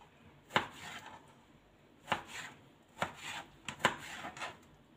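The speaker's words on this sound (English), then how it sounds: "next I'm going to cut in my tomato" A knife chops tomato on a board in several distinct, crisp taps at irregular intervals, close and fairly quiet, with a soft squelch between strikes.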